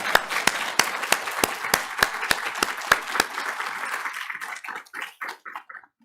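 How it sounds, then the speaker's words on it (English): An audience at a New Jersey Department of Transportation research showcase plenary applauds the DOT: loud, steady clapping with sharp individual claps up close, thinning into a few scattered claps before fading out. "Everyone, give the DOT a round of applause."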